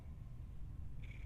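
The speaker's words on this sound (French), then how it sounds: "J'entends un ronronnement." A large cat from the video game Poppy Playtime Chapter 3 gives a deep, continuous rumbling purr, low and steady, briefly joined by a faint higher tone near the end.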